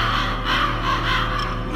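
Ravens cawing in the Metal Gear Solid video game, a harsh raspy call over a dense, steady, loud background, no speech.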